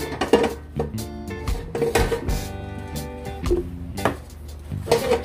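Clatter and scraping of a scorched Viking copper pan being scrubbed with Bar Keepers Friend powder, with irregular metallic knocks and rubbing strokes, close and fairly loud.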